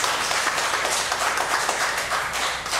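A church congregation at a Sabbath service gives a short burst of dense, steady welcoming applause, close and continuous with no voices over it.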